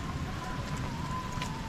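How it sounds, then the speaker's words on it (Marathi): Heavy, continuous rain pours down over Mawlynnong village in Meghalaya, among wooden and bamboo houses raised off the ground, making a steady, dense wash of drops with no break and no voices. "एवढा पाऊस कदाचित इकडे कंटिन्यू पाऊस आहे"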